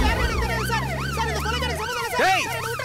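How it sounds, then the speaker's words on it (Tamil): An ambulance siren wails in rapid rising and falling sweeps, loud and close over a low rumble of road traffic, amid a comedy film scene. "அது ஆம்புலன்ஸ்ரா"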